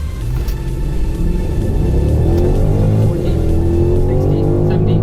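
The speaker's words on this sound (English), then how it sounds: "Full throttle down." A BMW X6 50i M Sport with its V8 pulls hard at full throttle on a mountain road, a loud, close, deep roar that rises steadily in pitch over a few seconds.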